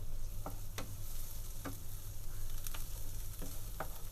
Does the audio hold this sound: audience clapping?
no